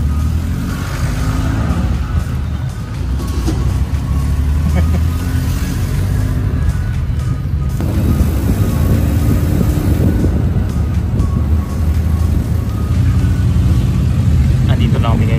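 A jeepney carries riders from Dumaguete toward Sibulan Airport, its engine droning loud and close with road rumble and wind throughout, the engine note rising and falling as it moves.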